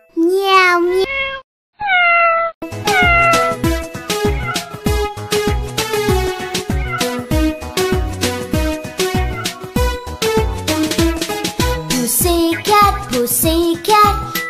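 A voice sings the nursery rhyme Pussy Cat, Pussy Cat over bouncy accompaniment, opening with drawn-out imitated cat meows, loud and close.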